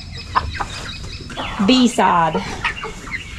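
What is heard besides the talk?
buff chickens clucking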